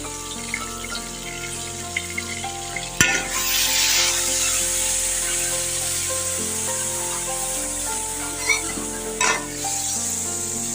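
Tomatoes go into a hot pan of frying masala made with garlic and ground dried coriander for aloo gosht, setting off a loud burst of sizzling and stirring that keeps crackling steadily, with a few clinks and scrapes near the end.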